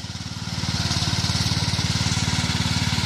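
A pickup truck engine labors in first gear, low range, dragging a massive stone up a small hill, a loud, close, rhythmic throbbing drone that builds slightly and then holds steady.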